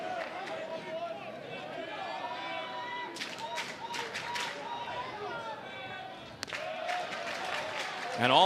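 Crowd at a college baseball game between Alabama and Oklahoma State swelling into cheers and scattered clapping, with sharp claps and shouts rising midway, under an announcer talking over the noise.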